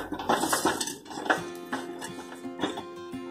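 Garam masala and pav bhaji masala being stirred into a pan for pav bhaji, a spoon scraping and clinking against the metal in quick irregular knocks and rattles, close and fairly quiet with no talk.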